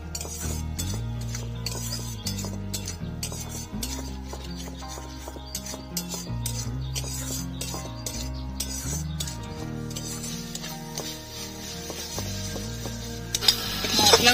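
Spice masala stirred and fried in a pan for stuffed pointed gourd: a spoon scrapes and clinks steadily against the metal pan in repeated strokes, with a soft sizzle underneath.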